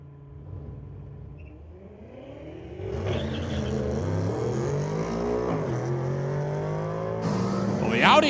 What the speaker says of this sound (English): Audi caught napping as that BMW M5 rips it down track.